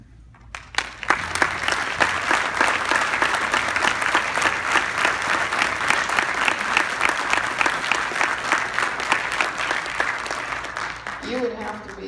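An audience applauds a couple standing up at a gathering, dense sustained clapping that swells quickly after a moment of quiet and continues strongly for about ten seconds before tapering.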